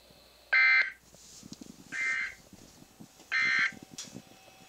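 Emergency Alert System attention tones from NOAA Weather Radio during a severe thunderstorm warning: three loud, steady electronic bursts, each under a second, separated by short gaps over faint background noise.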